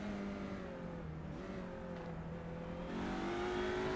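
Race car engine heard from onboard during an Audi racing series event, a loud steady drone that holds its pitch and then rises in tone as the car accelerates, with no voices over it.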